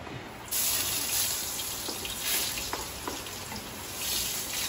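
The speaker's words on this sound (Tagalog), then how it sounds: "unahin na muna natin ilunod ang ding-ding-ding bawang" Garlic drops into hot oil and fries with a steady, close sizzle, a few soft clicks of a utensil against the pan breaking through the broadband hiss; no one speaks.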